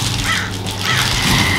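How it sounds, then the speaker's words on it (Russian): A crow caws loudly and close by in a residential courtyard, giving two or three harsh, drawn-out calls in quick succession with no talking. "Но этот ворона, когда каркает, нужно ей ласковые слова говорить."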